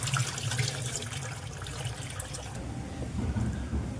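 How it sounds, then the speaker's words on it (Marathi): Water pouring through flattened rice (poha) held in a kitchen sieve, a steady close splashing and rushing that eases off toward the end. "आपण चाळणीमध्ये पोहे घेऊया आणि आपण हे पोहे आता धुवून घेऊया"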